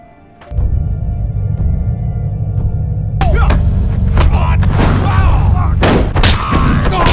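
A gunshot from a kung fu film scene in which a man is shot dead after losing a fight, heard as loud, abrupt bangs and impacts over a steady dramatic backdrop, with voices present.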